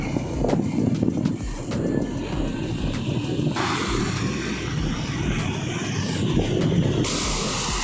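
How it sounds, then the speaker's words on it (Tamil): Wind blows hard at a sea-side beach along Chennai's coastal road near a temple, a loud continuous roar with buffeting gusts and crackling rustle throughout. "நல்லா சிலு சிலு சிலுன்னு காற்று அடிக்குது."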